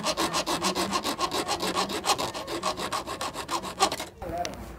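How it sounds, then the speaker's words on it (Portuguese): A small hand saw cuts a slot into a screw in quick, rhythmic back-and-forth rasping strokes up close, stopping just before the end. "pega uma serrinha e transforma ela em fenda"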